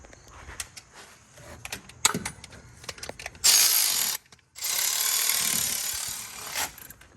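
A ratchet clicks in quick bursts of sharp metallic ticks while loosening bolts on a VW 2.0T engine during timing chain work, then a powered tool whirs loudly in two long runs.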